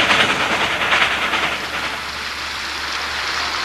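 The SP 4449 Daylight steam locomotive runs along the shore of Odell Lake, giving a steady, loud, broadband rushing hiss and rumble with a faint rhythmic texture that eases slightly over a few seconds.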